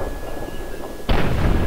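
A single loud, booming gunshot in Fallout 3 fired at a Super Mutant, cutting sharply through a quiet ambient hum with a thick rumbling tail.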